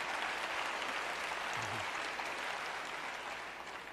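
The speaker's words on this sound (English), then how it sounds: "I'm going to have less applause." A lecture audience applauds Buckminster Fuller, a thick, continuous wash of clapping from many people that holds steady and then eases slightly toward the end.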